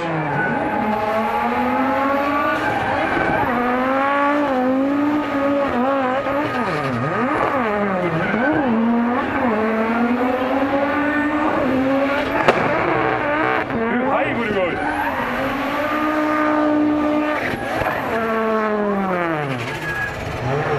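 A drift car at night at Fritidsparken in Skien, Norway, revs hard through a long burnout under a bridge, its engine wailing up and down with squealing tires, loud and continuous throughout.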